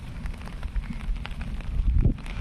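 Sudden rain falling outdoors, a continuous hissing patter with scattered heavier drops, steady and fairly close.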